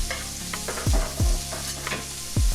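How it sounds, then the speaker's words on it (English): Garlic and onion sizzle and fry in a pan while being stirred, with a steady crackle punctuated by several loud scraping stirs at irregular moments. "Then we gonna go ahead and get our garlic in."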